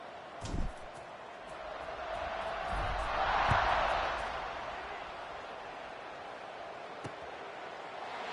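Distant stadium crowd in College Football 26 swells into a broad roar and cheer around the middle, then settles back to a steady murmur, with a faint thump near the start.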